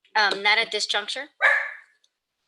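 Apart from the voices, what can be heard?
dog barking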